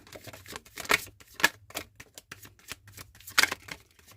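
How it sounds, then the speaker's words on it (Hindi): Tarot cards are shuffled close by in a quiet room, giving soft irregular riffling and flicking bursts with a few sharper snaps across the stretch. "लास्ट शफल एंजल्स, मेरे व्यूअर्स के पर्सन के दिमाग में क्या चल रहा है"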